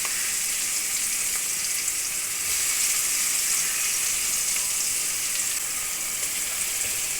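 Tomatoes and onion fry in a pan for a Kerala-style prawn roast, giving a steady, loud, close sizzle and hiss that runs unbroken throughout with no talk over it.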